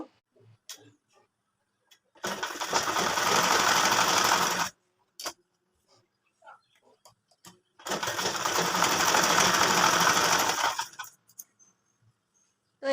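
A sewing machine stitches elastic onto baby frock fabric in two loud, steady runs of rapid needle clatter, each about two and a half seconds, separated by quiet pauses with small clicks and handling noises.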